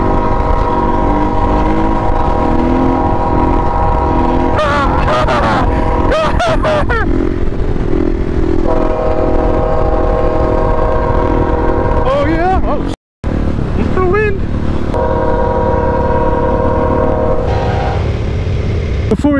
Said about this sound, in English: Oh my god, it's a train.